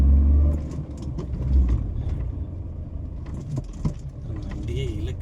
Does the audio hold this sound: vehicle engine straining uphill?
yes